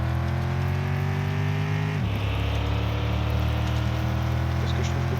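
A car engine in the Mon Bazou video game, driven in four-wheel drive with a DualSense controller, hums steadily in the foreground. Its pitch drops sharply about two seconds in, like a gear shift, then settles into a lower, continuous drone.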